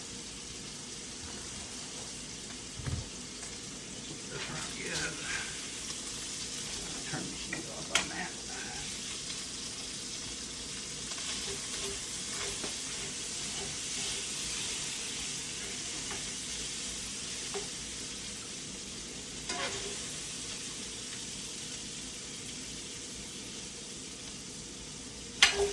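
Yellow squash and lean sausage sizzle steadily in a frying pan, a soft continuous hiss with occasional scrapes and clinks from stirring, close by and fairly quiet.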